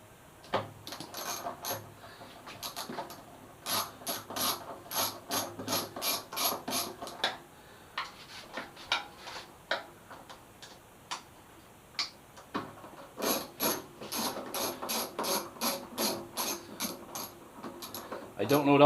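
A ratchet wrench loosens the 10 mm fuel tank bolts on a Suzuki GSX-S 1000F motorcycle, giving close, crisp clicking in quick repeated bursts with short pauses between them.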